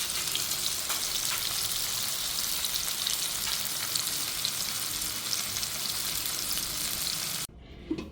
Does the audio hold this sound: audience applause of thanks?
no